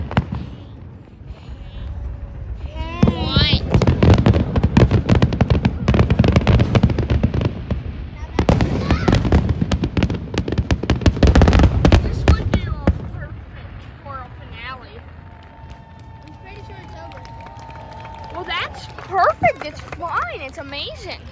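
Fifth of July fireworks bursting in loud, dense volleys of bangs and crackles over about ten seconds, then fading to scattered pops and whistles, with people talking and exclaiming nearby.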